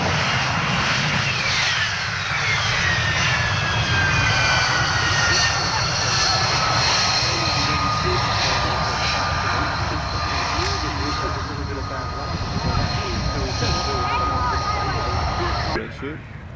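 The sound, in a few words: aircraft engine during landing run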